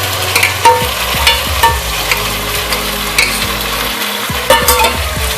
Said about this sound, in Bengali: এবার আমি এই সমস্ত মশলা দিয়ে চিকেনটা খুব ভালোভাবে কষিয়ে নেব